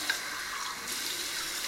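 Water running from a bathroom tap while shaving cream is being lathered, a soft steady hiss of flowing water heard alone at low volume, nearly constant for the whole moment.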